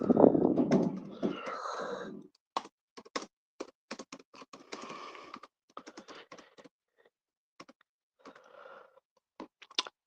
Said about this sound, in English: I'm going to have to type it in.